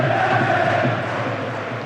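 A dense roar from a capacity football crowd of 39,500 at Hillsborough for Sheffield Wednesday against Manchester United, a broad, loud, steady wash of voices.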